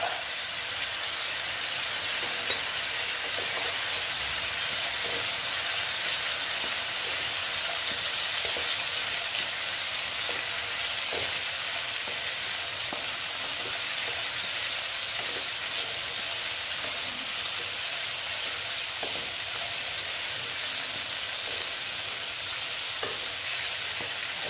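Green peas frying with bitter gourd and potatoes in a pan, a loud, continuous hissing sizzle that holds steady throughout, with faint occasional clicks of stirring and no talking.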